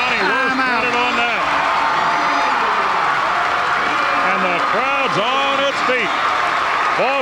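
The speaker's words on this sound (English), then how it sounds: "And the crowd's on its feet." A basketball crowd in a high school gym roaring and cheering after a layup, loud and sustained, with excited voices and a commentator talking over the noise.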